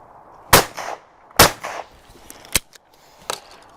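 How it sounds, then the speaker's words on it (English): Silma shotgun firing 28 gram Fiocchi cartridges: two loud, sharp blasts with brief ringing tails, followed by two quieter cracks, no talking. "I am shooting 28 gram Fiocchi"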